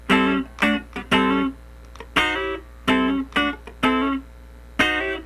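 Overdriven electric guitar plays a syncopated funk rhythm of short chord stabs and sliding chords, loud and close, with brief gaps between hits.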